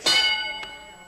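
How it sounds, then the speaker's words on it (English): A game show bell rings out on a 1976 Christmas broadcast of a family quiz game, a bright metallic strike with long sustained ringing tones that fade slowly, followed by a second softer tap. "Quasimodo, I can hear the bell going."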